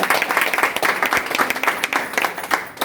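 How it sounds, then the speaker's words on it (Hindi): A meeting audience in Singhpur claps loudly in a dense, steady burst of applause, close and continuous for a few seconds. "जोरदार तालियां बजाएं कि आप लोग समझ जाए।"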